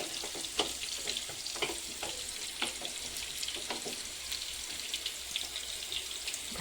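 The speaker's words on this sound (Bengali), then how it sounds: "এরকমভাবে কষাবো অনেকক্ষণ ধরে, তারপরে আবার কষানো হয়ে গেলে দেখাচ্ছি।" Country chicken curry sizzles and fries in a cooking pot as it is sautéed, with repeated scraping and stirring strokes over a steady close hiss, no voices.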